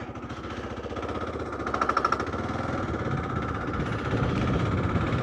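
A Kawasaki KLR 650 motorcycle, stuck in gear, pulls away in second on corrugated New Zealand roads. Its loud, close engine throbs steadily with a rough, pulsing beat and swells briefly as it takes off.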